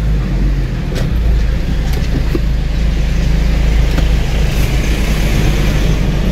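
Heavy road traffic in Baguio City, heard from inside a taxi: a loud, continuous low engine rumble and road drone with passing vehicles and occasional faint clicks.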